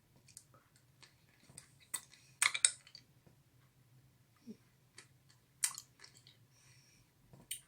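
Milk-flavoured honey candy is chewed and crunched close up, with sharp clicking bursts at irregular intervals and soft mouth sounds in between over a low steady hum.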